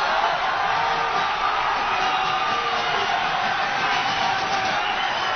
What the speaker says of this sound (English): the crowd responds to CJ